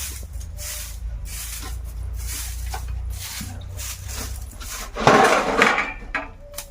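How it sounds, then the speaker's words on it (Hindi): Metal cooking pots and utensils clink and rattle as someone carries them in a rural home, with light scattered knocks and then a louder burst of clattering near the end. "तू बर्तन लेके आवत हो"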